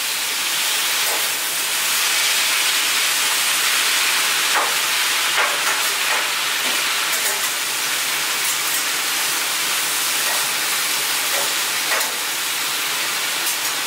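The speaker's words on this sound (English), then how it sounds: "Squirt a little bit of water on there" Steady broadband hiss fills the whole stretch as water squirted onto a hot griddle top steams off while a T-bone steak cooks, with faint crackles popping through and no talking.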